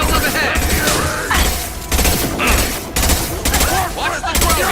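Rapid bursts of gunfire in the Mass Effect 2 video game, loud and close, coming in repeated volleys of several shots with short gaps between, layered over game effects and combat sounds.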